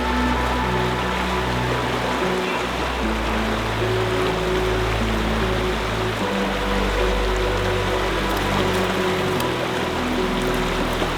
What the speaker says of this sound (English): The water that is coming out of this hot spring is super hot